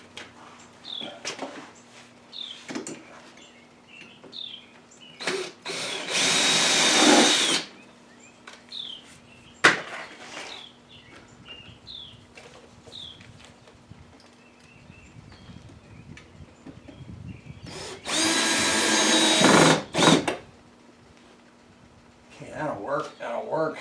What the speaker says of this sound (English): And I'll have to drill those 2 top ones at an angle